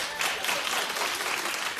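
Steady studio audience applause on a daytime talk show, a dense wash of many hands clapping together that holds through the short stretch with no pause.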